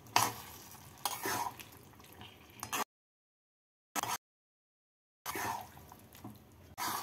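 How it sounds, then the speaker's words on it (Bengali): Cashew paste being stirred in a pan for a methi rajma curry, a soft scraping and sizzling that comes in bursts separated by silent gaps, close and fairly quiet. "এখানে আমি নিয়েছি 15টা কাজু বাদাম বাটা। এবার নাড়াচাড়া করে নেব।"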